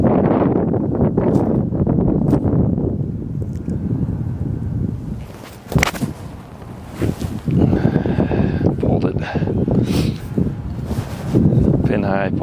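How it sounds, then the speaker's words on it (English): Wind gusting across an outdoor shooting range, a steady, loud rumbling buffet against the microphone that carries on throughout, with a few sharp knocks and brief quieter dips along the way. "Wind's picking up"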